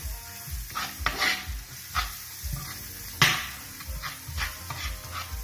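Garlic and onion fry with seasoning in a pan for a chickpea dish, with a steady sizzle under repeated scraping stirs at a moderate pace and one sharper clack partway through.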